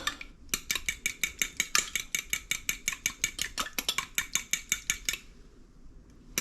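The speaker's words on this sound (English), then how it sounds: "I just put the egg in there, into the cream. I will give it a little whisk." A whisk beats egg into cream in a bowl, giving a fast steady run of about twenty-five crisp metallic ticks that stop abruptly after about five seconds, close and clear with nothing else heard.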